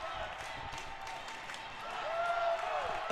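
Crowd noise rises in a rink at a high school hockey semifinal between PREP and the Chicago Romans, steady cheering and clapping under a whistle-like tone, swelling slightly louder toward the end.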